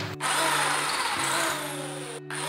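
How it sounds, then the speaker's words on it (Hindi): A power drill fitted with a thicker bit bores into a wall while a water heater is being installed, a loud, steady whine that runs nearly unbroken, with two brief pauses. "अब हम दूसरी बिट हम यूज करेंगे इससे मोटी वाली।"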